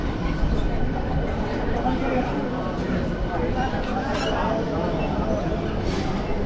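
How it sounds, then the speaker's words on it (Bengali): A local train pulls into platform 3 at Uluberia station, its low rumble and hiss filling the background while people talk nearby. "তো আমাদের ট্রেন এসে দাঁড়িয়েছে 3 নম্বর প্ল্যাটফর্মে"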